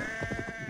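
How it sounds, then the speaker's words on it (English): Sheep bleat in Assassin's Creed Valhalla, a few short wavering calls over a steady game ambience with faint background music tones. "be careful with the sheep"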